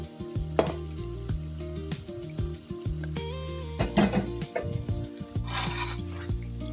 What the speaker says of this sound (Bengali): আমি ধীরে ধীরে এপিট ওপিট করে সুন্দর করে ভেজে নিব